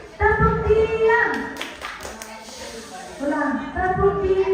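Children clap in a hand-clapping game at a 12th and 4th birthday party at Batara House, with bursts of claps mixed into lively children's voices and chanting.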